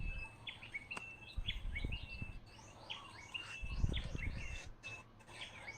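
A bird sings outdoors in repeated bright chirping phrases, fairly faint and steady, with low rumbling background noise underneath and no talking.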